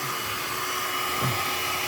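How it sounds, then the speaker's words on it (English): A hair dryer blows steadily at close range on a guitar body being finished, a constant loud rushing whir with a high motor whine and no voices. "I'll hit it with the blow dryer to warm up the wood or the metal"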